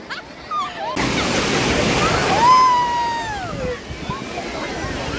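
Sea waves wash onto the shore at Digha beach in a continuous broad surf rush, swelling and easing, while people talk nearby and a high whistling call sweeps across.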